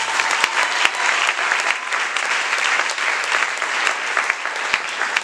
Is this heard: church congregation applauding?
yes